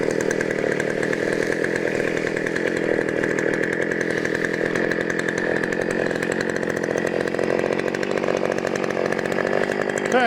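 After a fuel tank repair, a Husky mini tiller's small engine runs at high revs with a buzzy, steady whine like a chainsaw, loud and near, alone without speech.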